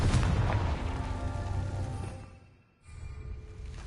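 The Confringo explosive spell from Hogwarts Legacy goes off as a dense rumbling burst that stays loud and broad, then briefly drops out before a quieter rumble returns.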